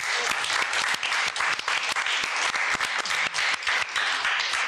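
An audience on an Indian Doordarshan television talk show breaks into applause, a loud burst of many hands clapping with distinct sharp individual claps standing out, continuous throughout.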